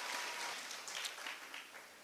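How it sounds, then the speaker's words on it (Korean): Church congregation clapping together in a dense, even burst of applause, steady for about two seconds with no voices over it. "우리 힘차게 박수로 하나님 영광 드리겠습니다."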